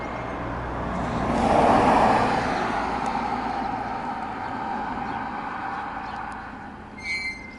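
A vehicle passes close by at a police checkpoint in Zolochiv, Ukraine, with a rising then fading engine and road rumble, steady traffic noise continuing in the background.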